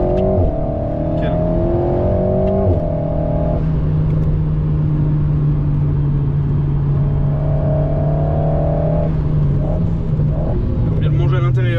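An Alpine A110S with an aero kit accelerating hard on the Clastres circuit, its engine note climbing in a strong sustained pull, holding a loud drone and shifting pitch with gear changes, close and continuous.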